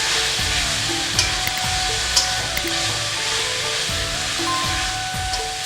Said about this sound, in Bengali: এবারে আমি অল্প একটু জল দিচ্ছি, জল দিয়ে মশলাটাকে কষিয়ে নেব